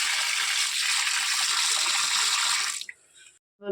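Fresh kedara fish being rinsed under a running tap, a steady close rush of water that stops near the end, followed by a brief clatter.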